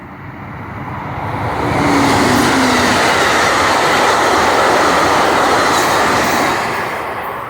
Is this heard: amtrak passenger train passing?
yes